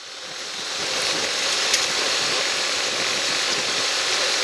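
An old motorcycle, a non-cruiser, rides along a road, its engine droning steadily under heavy wind rush that swells over the first second and then holds constant.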